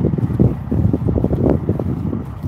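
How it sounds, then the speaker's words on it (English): Gusty wind buffets the microphone in a low, rumbling roar with rapid fluttering pulses, loud and continuous. "It's a little windy out here."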